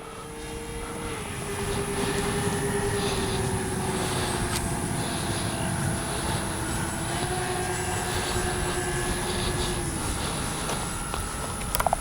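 Twin engines of a Flightline B-25J warbird RC model airplane drone steadily in flight, a sustained buzzing tone that dips slightly in pitch as the plane passes, heard from a moderate distance over outdoor background noise.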